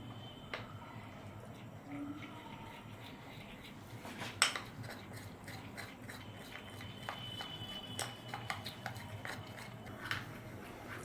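A spoon stirs mushrooms with soy sauce in a bowl, making quiet scattered clinks and scrapes against the dish, with a few sharper taps and faint room noise.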